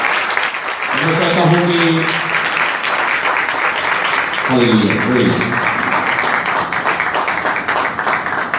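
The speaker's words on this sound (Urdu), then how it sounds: "ان کے لیے بھی زوردار تالیاں بجائیے گا" A church congregation applauds loudly and steadily, a dense sustained wash of clapping that fills the room while someone speaks over it.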